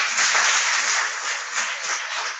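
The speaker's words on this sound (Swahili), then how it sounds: "Kwa hivyo basi tumpigie makofi daktari." An audience at a motivational talk for school exam candidates applauds a doctor with a sustained, even wash of clapping from many hands, fairly distant and without speech.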